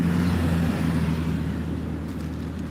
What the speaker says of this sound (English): Now you hear traffic, right?